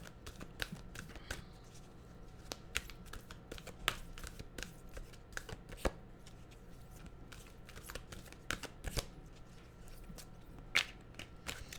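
Tarot cards are shuffled close by in a run of soft, quick riffles and flicks, irregular slaps of card against card repeating throughout at a quiet level.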